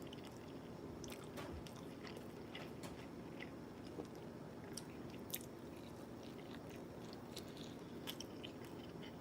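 Tacos being chewed and eaten close up, with faint repeated crunching bites and soft wet mastication over a low steady background, no talking.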